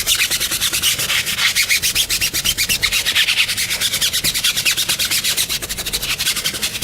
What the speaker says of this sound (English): Now the last step in cleaning your rims is to scrub off the wheels.